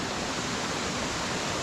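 Steady broadband rush of a waterfall feeding a stream that flows over stepping stones, continuous and fairly close, with no voices.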